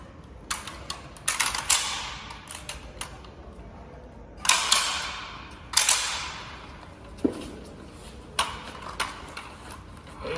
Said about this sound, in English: I want you to strip the weapon down for normal daily cleaning.